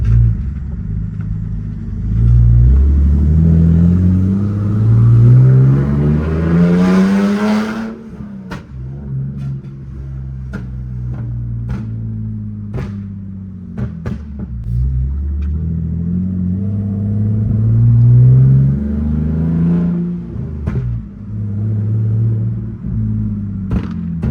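BMW E46 drift car engine running low and rough, rising through revs early on, then settling into an unsteady, surging idle with clicks and bumps as it drives slowly, loud and close.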